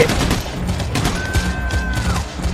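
Gunfire in the video game PAYDAY The Heist during a bank robbery, loud dense bursts of shots with a thin whine passing through, close and continuous.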